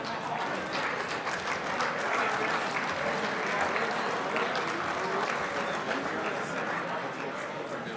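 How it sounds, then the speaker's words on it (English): Audience applause at an awards banquet for an RC car racing world championship, dense sustained clapping from a large crowd filling the room at an even loudness throughout, with some voices mixed in underneath. "another big round of applause for those youngsters coming out to their 2023 IFMAR World Championships"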